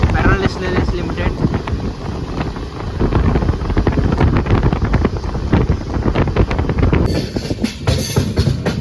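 The Pinakini Express passenger train runs on rails on its Vijayawada to Chennai Central journey, a loud, continuous rushing rumble with wind buffeting the mic and rhythmic clatter from the track.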